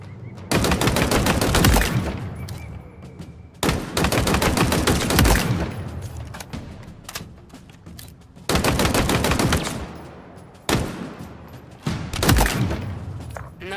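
Rapid automatic gunfire in Halo Infinite's training academy rattles in several loud sustained bursts separated by short pauses, shooting at targets.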